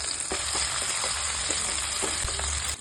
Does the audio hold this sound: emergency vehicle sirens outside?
no